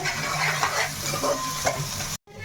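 Whole spices fry in oil for mutton biryani, a steady close sizzle with stirring scrapes and small clinks, cut by a brief moment of silence near the end.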